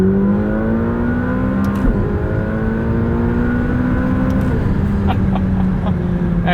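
2020 McLaren 570S Spider accelerating hard at full throttle in second gear, a loud continuous engine roar with rising harmonic pitch, a brief dip around a shift-like break, then climbing revs again, heard from inside the cabin.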